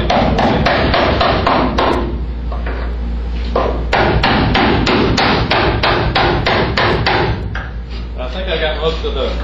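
Hammer blows breaking spot welds loose on a 1979 Chevrolet El Camino body, a rapid series of loud, close metallic strikes over a constant low engine or compressor drone, with a voice heard among them.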